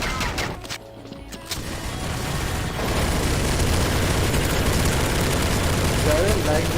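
Video game battle with dense, continuous gunfire and booming grenade explosions, loud and sustained, the rattle and blasts building into a steady roar over several seconds.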